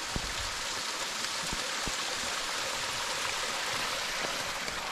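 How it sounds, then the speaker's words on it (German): Mountain streams and waterfalls in the Karwendel range rush in a dense, continuous wash of water noise, with a few faint splashy ticks and no voices. "Da bieten sich überall Wasserfälle"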